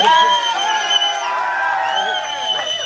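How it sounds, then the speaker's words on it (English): A crowd cheers and whoops for Putin at a rally outside a Russian consulate, a sustained wash of raised voices and shouts, fairly loud and steady for a few seconds. "Let's have a cheer for Vladimir Putin."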